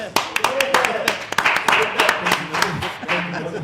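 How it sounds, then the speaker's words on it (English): Applause from people gathered in a restaurant: a burst of many hands clapping at once, sharp, dense and fairly close, sustained steadily with a few louder individual claps standing out. "We can clap again."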